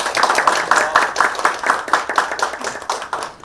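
Audience at a Shinhan Card and Gyeongsangbuk-do ESG cooperation agreement signing ceremony applauding guests as they are introduced, a steady, moderately loud stretch of rhythmic clapping with no talk.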